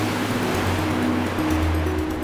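Magic water current flows in a cartoon, a steady rushing wash like surf or a stream, soft and continuous with low tonal music underneath.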